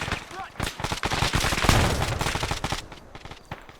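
Gunfire in the military video game Arma 3 during a SEAL assault in Venezuela: rapid sharp shots and automatic bursts in quick succession, loud and close, with a voice talking over the shooting.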